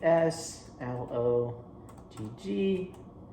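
Commands are typed on a Raspberry Pi's computer keyboard, with light clicking keystrokes in short bursts beneath a man's nearby speech.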